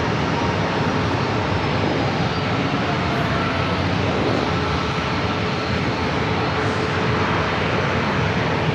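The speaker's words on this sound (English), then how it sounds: "This flight heading to Vegas on this A320 Neo" An Airbus A320neo jet bound for Las Vegas roars steadily as it takes off from the runway at San Diego airport, a broad, continuous engine rumble heard from a distance without any talk.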